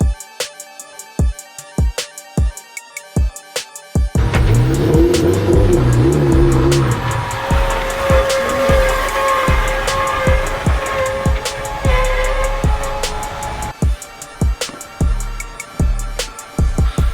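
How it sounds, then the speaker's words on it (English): A modified Honda NSX engine revs hard through a sustained burnout, a loud, continuous roar lasting about ten seconds, framed by sharp ticking clicks before and after. "I definitely met my goal of doing a burnout."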